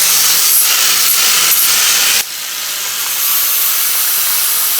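A flap disc grinds down a rough weld on the radiator of a Hillman Husky, making a steady, loud broadband hiss and rasp that drops sharply partway through and then continues more quietly.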